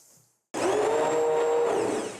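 An immersion stick blender starts up suddenly and whirs steadily while mixing coleslaw with homemade vegan aquafaba mayonnaise, a loud close motor hum with a faint pitch wobble; no talking.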